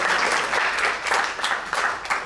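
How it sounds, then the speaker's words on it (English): A conference audience gives a round of applause, a dense wash of many clapping hands swelling and ebbing slightly over a couple of seconds, loud and continuous without speech on top. "Let's give him a round of applause."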